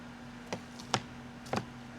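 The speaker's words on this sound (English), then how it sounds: "Cut up the green onion them, guys." A kitchen knife chops green onion on a board for Jamaican curry crab cooked over a coal pot, giving three sharp, separate chops spaced about half a second apart against a steady low hum.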